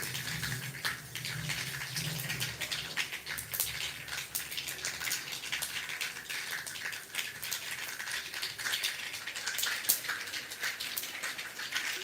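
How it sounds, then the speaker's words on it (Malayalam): Mustard seeds pop in hot oil for tempering, made for a cassava breakfast dish. A dense, continuous crackle of tiny pops runs nonstop at close range, with no voices. "കടുക് ആ കടുക് പൊട്ടി തുടങ്ങിയിട്ടുണ്ട്"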